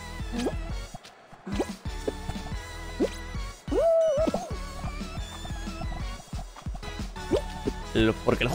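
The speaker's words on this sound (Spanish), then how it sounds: "El sonido de las casillas es como blum, blum, blum, blum, blum, blum, blum" Fall Guys video game tiles give off muffled, watery blooping drips, as if heard underwater, popping irregularly beneath nearly continuous talking.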